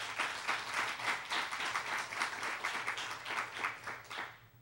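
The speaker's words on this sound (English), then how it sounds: "I just want to get a round of applause for all the freshmen and the rookies who've come through here" Sustained applause from a crowd at a student recognition banquet, a dense, steady clapping of many hands that fades out at the very end.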